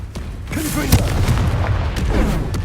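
Confringo fire spell blasts from Hogwarts Legacy, a booming explosive burst with rumbling impact during a spell-casting fight, loud and close, with a voice shouting over it.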